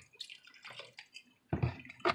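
Unsweetened almond milk splashes into a mug of black coffee in a home kitchen, a few soft, faint liquid drips and gurgles in quick succession, close and brief.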